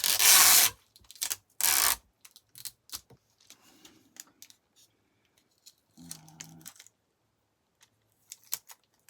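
Loud ripping bursts of tape pulled off a roll, followed by scattered crinkles, taps and a short squeaky stretch.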